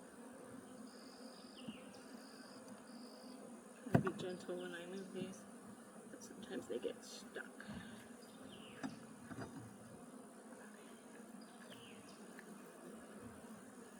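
Honey bees hum faintly and steadily in an open hive while a person talks softly, with a few clicks and taps of handling nearby.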